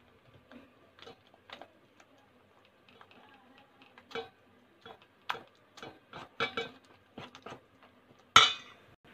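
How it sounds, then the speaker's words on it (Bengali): A rice and wheat flour batter is whisked in a bowl, giving quiet, irregular clinks and taps of the utensil against the bowl that come in short scattered bursts up close, with no talking. "এবার এতে দিয়ে দেবো আটা। 1 কাপ পরিমাণ আমি আটা দিচ্ছি। ভালো করে এটাও গুলিয়ে নেব।"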